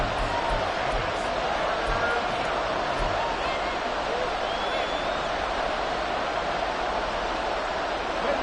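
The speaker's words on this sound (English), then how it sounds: "This crowd turning up the decibel level." Broad, steady stadium crowd roar from the Madden NFL 24 video game during a tense fourth-quarter moment, a dense continuous wash of cheering that stays loud throughout without breaks.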